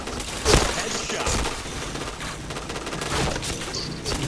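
Gunfire in a shooter video game rattles in dense, continuous bursts with a sharp crack near the start, loud and steady across the whole stretch.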